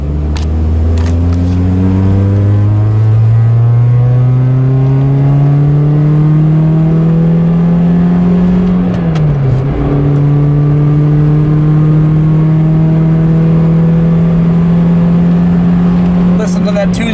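Toyota 2ZZ engine in a car driving home after a transmission replacement, revving hard and climbing through the gears with a loud, continuous rising drone that dips briefly at a shift before pulling up again.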